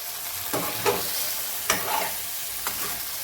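Masha vegetable curry being stirred in a frying pan, with a steady sizzle and a few distinct scraping strokes of the spoon at a measured pace, close up and with no talking.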